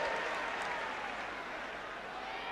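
A large football crowd at Highbury stadium for Arsenal v Leeds United fills the air with a steady, dense roar and applause-like noise, distant and continuous.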